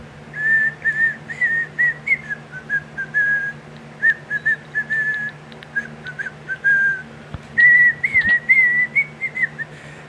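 A person whistles a tune in phrases, clear and close, with brief pauses between lines and a low steady hum underneath.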